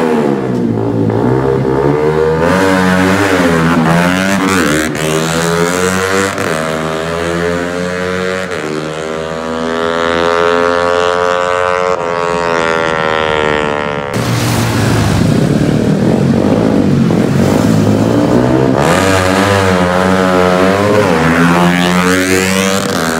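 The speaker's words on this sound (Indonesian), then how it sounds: "Kemarin aku coba motor ini di jalan raya." A Yamaha MX King motorcycle with a changed gearbox and throttle body revs loudly and close on a road, its engine pitch climbing and falling through repeated surges and gear changes over a long continuous run.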